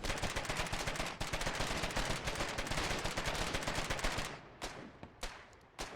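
Rapid automatic gunfire fills the Foxhole battlefield for about four seconds, dense and loud, then tapers into a few scattered distant shots with no talking.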